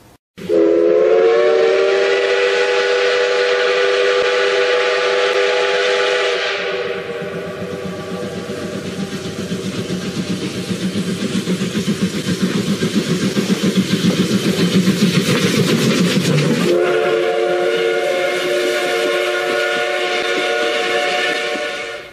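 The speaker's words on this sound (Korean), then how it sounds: "이 천국 복음 열차가 이 열차의 종착역인 천국을 향해서 힘차게 출발하겠습니다" A train sound effect opens with a loud, sustained steam whistle, gives way to chugging rail rumble as it departs, then ends on another long whistle blast.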